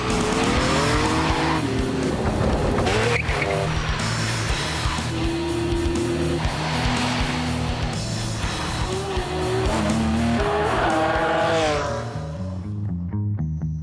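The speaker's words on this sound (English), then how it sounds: "The Bugatti with those 4 lazy turbos is tiresome on the road, but it does manage to get back some cred on the track." A Bugatti supercar with four turbochargers at speed on a race track, its engine roaring loud and continuous with rising and falling pitch through gear changes and tire squeal, then fading abruptly at the end.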